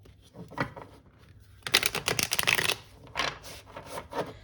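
Tarot cards are shuffled by hand, with quick papery riffling bursts and a louder flurry in the middle, close and alone.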